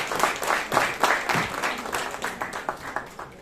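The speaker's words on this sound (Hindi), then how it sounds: "तालियां बजा दीजिए जोर से" Audience applause at a women's award ceremony, a crowd clapping loudly in a steady patter that gradually thins into scattered, slower claps over a few seconds.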